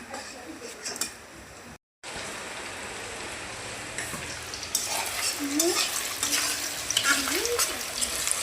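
Chicken pakora fries in hot oil with a dense, close sizzle and bubbling that grows louder after a brief silent gap, while voices talk intermittently over it.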